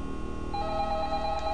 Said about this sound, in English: there's still a phone call.